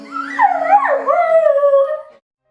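A single dog lets out one long, close howl that rises and bends in pitch before trailing off, loud and alone with no other sounds.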